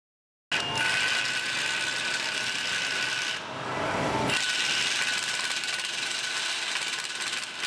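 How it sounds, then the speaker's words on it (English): Impact driver turning an 18mm reamer to enlarge a hole in steel with cutting fluid, a loud, close, continuous rattling hammer-and-grind that starts abruptly, eases briefly midway, then resumes at full force. "I'm starting off with the 18mm diameter reamer and using plenty of cutting fluid"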